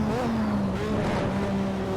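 Lotus 98T Formula 1 car with a turbocharged engine in Assetto Corsa, held high in fifth gear; a steady sustained drone with rising harmonic lines from the engine, loud and close, with no talking over it.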